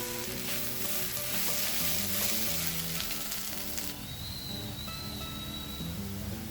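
Chili, coriander and turmeric powders sauté in a pan for a dry anchovy and egg curry, making a continuous close frying sizzle, with faint music playing underneath.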